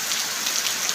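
Heavy monsoon downpour in a village pours down as a loud, dense, continuous hiss of rain drumming on surfaces, close and unbroken.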